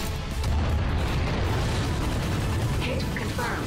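A Starwatch ion cannon blast in Ratchet and Clank, a dense, roaring explosion that fills the whole moment with sustained rumbling power and crackle, loud and close.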